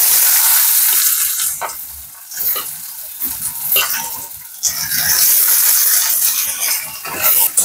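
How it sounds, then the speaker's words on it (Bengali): Chopped onion frying in hot oil with garlic and bay leaf, a loud continuous sizzle and crackle broken by repeated scraping and stirring in the pan, close up with no voices. "পেঁয়াজ কুচিটা দিয়ে দেবো"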